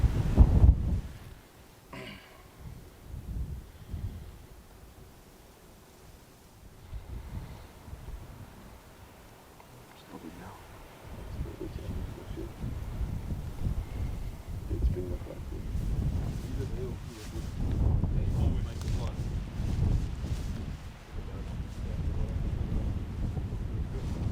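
Wind buffets the microphone in low, rumbling gusts on an African safari, rising and falling, growing stronger toward the end, with no voices.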